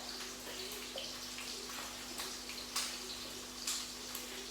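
Water from a kitchen tap runs steadily over an octopus being washed before cooking, a soft continuous rush with faint splashes and ticks, fairly quiet with no talking.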